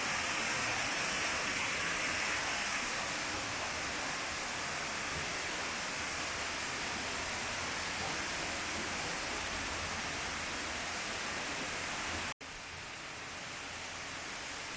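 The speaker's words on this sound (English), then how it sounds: "This place is famous for the waterfall." A steady, broad rush of a waterfall at the Edward James surrealist garden in Xilitla, Mexico roars continuously, a dense white-noise wash with no voices, briefly cutting out near the end before resuming.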